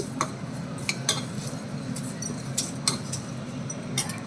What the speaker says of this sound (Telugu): హోల్ గరం మసాలా వేపుకుందాం.